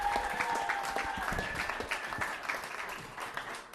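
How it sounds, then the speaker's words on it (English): Wedding guests applaud the groom David, a fairly quiet, steady patter of clapping from a room full of people, with faint voices mixed in. "Put your hands together for David. A round of applause"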